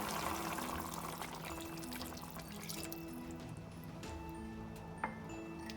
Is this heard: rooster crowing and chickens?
no